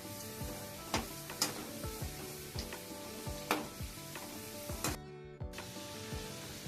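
Gavvalu dough shells fry in hot oil with a continuous soft sizzle, while close, sharp metallic scrapes and taps from stirring recur every second or so.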